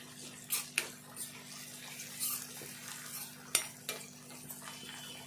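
Spoon stirring turmeric and ginger-garlic paste into an egg curry in a pan, with soft scraping and a few sharper metallic clinks against the vessel over a faint steady hum, close and fairly quiet.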